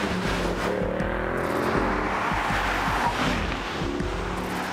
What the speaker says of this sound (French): le moteur, il est impressionnant, ça pousse très très fort